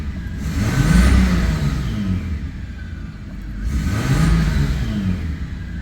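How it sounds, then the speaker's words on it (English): A 4.5-litre petrol Toyota Landcruiser engine revs twice while parked, each rev swelling to a rumbling peak and easing back down, loud and close with no talk. "if I give it a rev here standing still"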